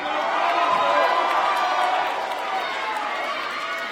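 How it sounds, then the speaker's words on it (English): Crowd at a student boxing fight night in Cardiff roars and cheers steadily as the third and final round begins, a dense, continuous wash of voices close and loud throughout. "the crowd getting behind the Cardiff boy as they start the 3rd round"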